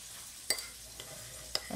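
A sauce of lemon juice and other ingredients being stirred for fried fish and fried breadfruit: soft, low mixing noise with a few quick, sharp clinks of a utensil against the bowl, close and fairly quiet.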